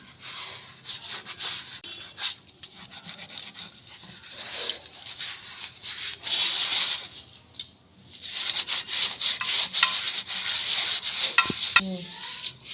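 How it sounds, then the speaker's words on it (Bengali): A steel tap is scrubbed with ground eggshell powder, close-up rubbing and gritty hissing strokes in uneven bursts, with occasional small metallic taps and a brief pause midway. "কাছ থেকে দেখাচ্ছি ঘষে একদম পরিষ্কার করে"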